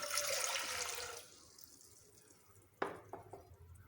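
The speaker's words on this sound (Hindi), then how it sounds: "इसके अंदर मैं 2 गिलास पानी ऐड कर रही हूँ।" Water poured from a glass into a pan to start a sugar syrup for bread gulab jamun, a close, splashing pour that trails off, then a few light clinks and drips.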